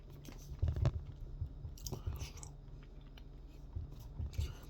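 Chewing a Reese's chocolate caramel candy, close and quiet wet mouth sounds with soft irregular bites and crunches, alone without talk.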